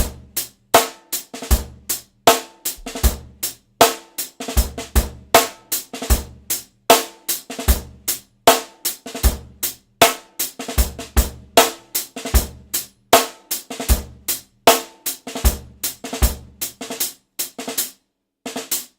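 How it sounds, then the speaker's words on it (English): Snare drum drag strokes, each a quick two-note grace figure ahead of a main hit, repeated in a steady groove with deeper drum hits underneath, crisp and close with no voices. "another great stroke that you guys can do on the snare drum is the drag."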